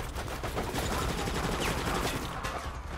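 Rapid gunfire from a Resident Evil: Operation Raccoon City game firefight, a dense, continuous burst of shots filling the whole moment with no break.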